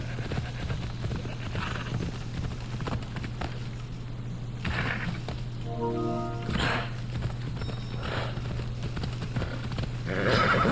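A horse in the video game Assassin's Creed Odyssey, with steady clip-clopping hooves and a clear whinnying neigh midway over a constant low in-game hum.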